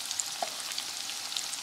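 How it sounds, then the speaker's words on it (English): Vegetable pakoras frying in a pan of hot oil, a steady soft crackle and hiss with scattered small pops, fairly quiet and close, with no talking. "And we're gonna let these fry."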